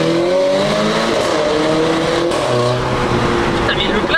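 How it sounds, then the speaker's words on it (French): A Renault Clio 4 RS stage 3 revs hard, the tuned exhaust roaring with rising and falling engine tones and sharp crackles, loud and close, while people talk over it. "le claquement, tu sais c'est vachement type A45 AMG"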